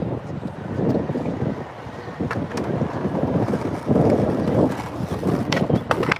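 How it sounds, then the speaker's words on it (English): Gusty wind buffets and rumbles across the microphone in uneven surges, with faint scattered clicks and knocks in the background. "It's windy."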